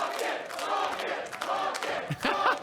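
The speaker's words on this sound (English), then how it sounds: "I love the bucket chant from the fans." A large arena crowd at an LCS League of Legends playoff match chants and cheers together in a loud, continuous roar with rhythmic swells.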